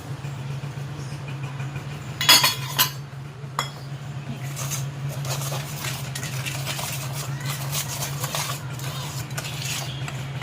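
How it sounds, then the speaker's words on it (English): Breadcrumbs and matcha powder are mixed in a bowl, with scattered utensil clinks and scraping bursts over a steady low mechanical hum, and no one talks. "we're gonna mix our breadcrumbs and matcha"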